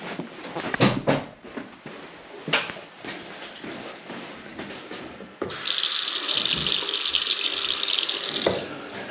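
Water rushes through plumbing pipes as a hot water tank with a newly swapped immersion heater refills. Irregular knocks and gurgles come first, then a loud, steady hiss of flowing water builds and holds, with no talk.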